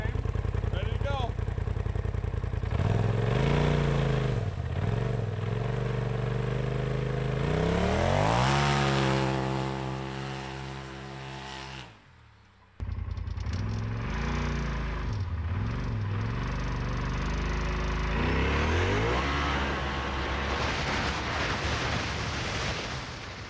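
Can-Am X3 Turbo RR UTV engine revs near 2,500 rpm and then launches hard, rising through loud gear pulls before a brief shift gap and a second surge, with a person talking over it.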